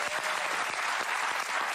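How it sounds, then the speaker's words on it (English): Studio audience applause on a daytime talk show, a dense, continuous wash of clapping from a crowd held at an even level for the whole stretch. "Give Donna a round of applause"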